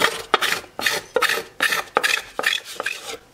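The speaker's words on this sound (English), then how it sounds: "I may have to carve the rest of this back with the scraper if it'll do it" A hand scraper carving a wooden mandolin back in repeated rasping strokes, about eight scrapes with short pauses between them, close and fairly loud, with no talk.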